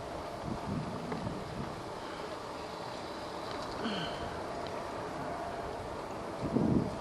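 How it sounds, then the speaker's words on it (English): Strong wind gusts blowing outdoors during a high wind advisory, a steady broadband rush buffeting the microphone with a few louder bursts near the end, no voices. "Yeah, the high wind started yesterday for some reason."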